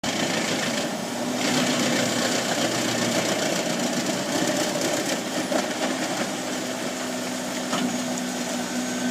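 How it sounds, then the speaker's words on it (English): A Hem 700D wood chipper, a heavy grapple-fed machine built for large tree trunks, shreds big logs with a loud, steady mechanical roar and grinding drone that hold near-constant throughout. "The Hem 700D wood chipper stands out with its powerful design, specially built to handle large tree trunks"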